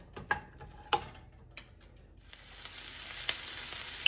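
Chopped onion starts sizzling in a hot pan after a few light taps and clicks, the frying hiss rising and settling into a steady close crackle that continues to the end.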